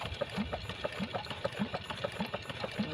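A 50 HP water pump engine starts and settles into steady running, a rhythmic chugging pulse with a light mechanical rattle, moderately close, with no talk.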